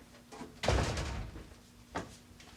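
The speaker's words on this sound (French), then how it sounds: "pas nécessaire de défoncer la porte, là" A door is banged or slammed with a heavy thump, followed by a rumbling resonance and a second, lighter knock about a second later, fairly close, with no talk over the impacts.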